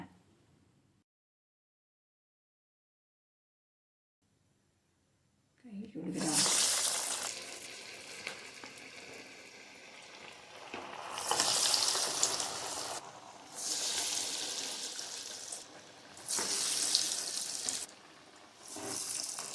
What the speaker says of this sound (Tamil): இப்போ சட்டியில் எண்ணெய் ஊற்றி எண்ணெய் காஞ்சிருச்சுங்க. இப்போ நம்ம வந்து வடை போட்டுக்கலாமுங்க.